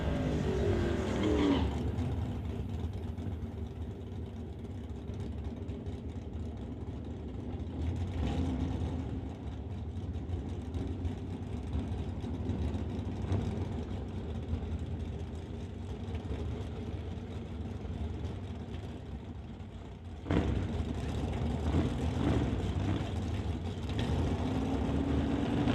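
Drag racing cars roar on the strip, engines sustained loud and broad, with one car launching off the line near the end and a fresh surge of engine noise.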